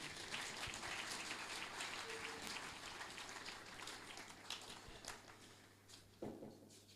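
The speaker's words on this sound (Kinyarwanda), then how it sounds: "mwakomera amashyi menshi" A crowd at a cultural music gathering in Mbarara claps together, a continuous patter of many hands at some distance, fairly faint and gradually thinning toward the end.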